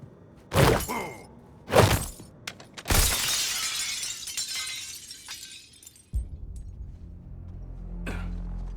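Glass shatters in the video game Suicide Squad: Kill the Justice League, with two sharp cracks followed by a loud crash and a long spray of falling shards, then a low rumble and a faint tinkle.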